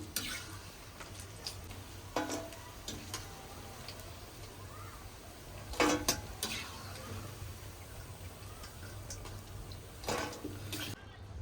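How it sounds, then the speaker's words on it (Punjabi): Spinach pakoras going back into hot oil for a second fry, with a steady low bubbling sizzle and occasional sharp clinks of a utensil against the pan. "ਇੱਕ ਵਾਰੀ ਅਸੀਂ ਫਰਾਈ ਕਰਕੇ ਇਹਨਾਂ ਨੂੰ ਬਾਹਰ ਕੱਢ ਲਿਆ ਅਸੀਂ ਹੁਣ ਦੁਬਾਰਾ ਫਰਾਈ ਕਰਨ ਲੱਗੇ ਆ"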